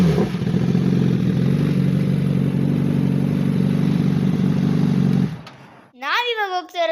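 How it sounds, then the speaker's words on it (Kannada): A superbike engine revs steadily and loudly up close for about five seconds with a throbbing low drone, then cuts off, and a voice speaks briefly afterward. "ನಮಗೋಸ್ಕರ ಬೈಕ್ನ ರವ್ ಮಾಡಿದ್ರು"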